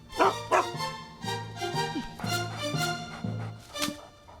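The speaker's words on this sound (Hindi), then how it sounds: "nice doggy, nice" A dog barks repeatedly with yips and a whimper, loud and close, in short bursts with brief pauses between them.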